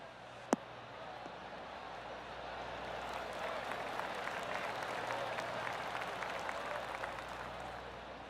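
A golf gallery in PGA Tour 2K23 applauds steadily after a shot on the 18th hole, a sustained, fairly even wash of many hands clapping, opened by one sharp tap.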